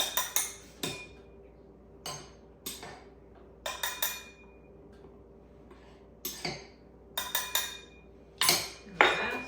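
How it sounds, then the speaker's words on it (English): A spoon clinks and scrapes against a mixing bowl while milk and flour are stirred into marble bundt cake batter, in close, irregular bursts of clatter separated by short pauses, with no talking. "And we're going to stir this one in."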